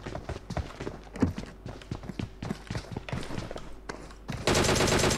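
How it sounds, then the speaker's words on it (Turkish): Gunfire in the mobile battle royale game PUBG Mobile, rapid rattling bursts of shots in irregular clusters, then a dense sustained burst near the end, fairly loud throughout. "Sanki birkaç tane daha silah sesi duydum"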